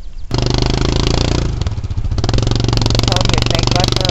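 Engine revving hard and clattering as a vehicle tries to pull out of deep mud, loud and close with a steady throaty drone, voices briefly heard at the start.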